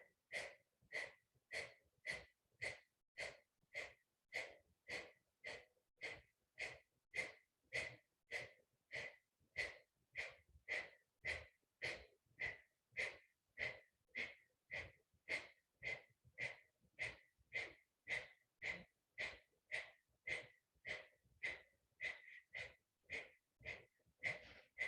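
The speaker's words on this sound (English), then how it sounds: "We're going to go back to that breath of fire for round 2." Kundalini yoga breath of fire: rapid, forceful, evenly paced nasal breaths, roughly one and a half per second, repeat steadily and close up for the whole stretch, fairly quiet, with no talking.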